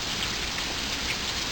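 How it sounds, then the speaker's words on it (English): Heavy rain pours steadily outdoors in Florida, a dense, continuous hiss of drops striking surfaces nearby, loud and unbroken with no voices over it. "Rain like a motherfucker."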